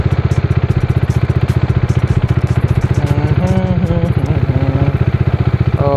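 A Bajaj Dominar 400 single-cylinder motorcycle pulls in second gear, its loud, close engine thudding in a fast, steady pulse with a rising whine layered over the firing beat.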